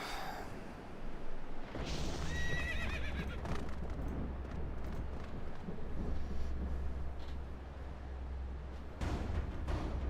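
Horses in the Twilight Princess video game whinny several times over a steady low rumble, with hooves clip-clopping through the scene, loud and close.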